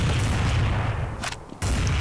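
Gunfire in Counter-Strike 1.6, with loud continuous booming shots filling most of the moment, a brief lull, then the firing resumes abruptly, and no talk.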